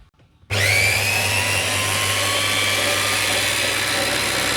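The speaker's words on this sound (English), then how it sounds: "popped it into my little mini blender here. And we're just going to turn it on." Small mini blender switched on to chop finely cut wild garlic, a steady loud motor whir starting abruptly after a brief quiet moment and running continuously with a strong low hum.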